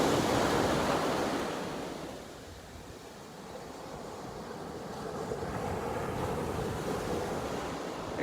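Ocean waves surging and breaking on a beach, a broad continuous wash of surf that swells, eases in the middle and builds again, with wind noise over it.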